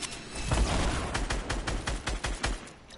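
Enemy gunfire in a video game crackles in rapid bursts, a fusillade of sharp, closely spaced shots that fades into separate pops toward the end. No voices are heard.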